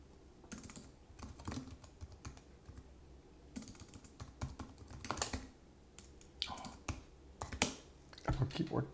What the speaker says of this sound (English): Apple keyboard, yeah.